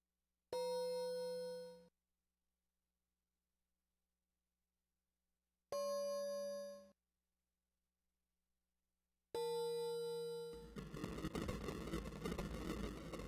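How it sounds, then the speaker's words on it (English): A crystal tapped against a triangular metal panel in a Jetsons adventure video game gives three separate bright metallic rings, each struck cleanly and decaying over about a second, the last swelling into a dense shimmering electronic tone. "You tap the crystal against the triangular panel. There's a ringing sound, and a glow rises from deep within the metal."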